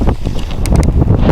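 Strong wind gusting outdoors in a cemetery parking lot, a loud, rough buffeting roar against the microphone with uneven swells throughout.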